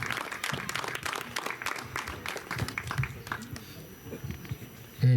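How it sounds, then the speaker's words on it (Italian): Audience applause for Gavino Marmillatta of Ittiri at a Sardinian poetry and entertainment evening, dense steady clapping from a crowd, moderately loud and continuous, ending abruptly with a loud thump. "Un applauso a Gavino."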